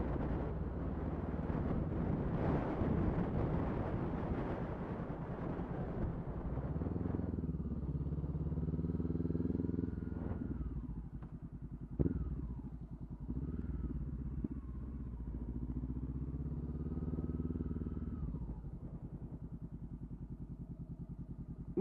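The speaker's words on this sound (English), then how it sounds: "Motorcycles." Motorcycles passing on a busy road, heard as a loud engine rumble that swells early on and then fades, followed by lighter traffic noise with small clatters and a few brief bumps.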